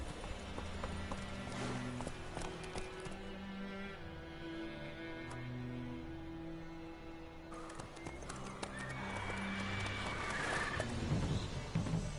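Roach, a horse in The Witcher 3, whinnies and clip-clops at a gallop, with steady hoofbeats under in-game background music and a louder stretch near the end.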